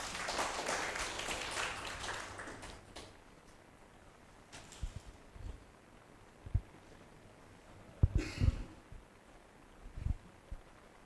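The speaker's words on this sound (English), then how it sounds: "Okay, give applause." An audience at an international postgraduate workshop at UIN Mataram gives dense applause that tapers off over the first few seconds, leaving scattered soft knocks and rustles in a quiet hall.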